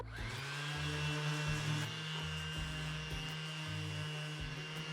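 An electric sander working on the tail and nose of a foam surfboard, a steady motor whine with a low hum that pulses in short rhythmic bursts as the tool is pressed and lifted, heard alone.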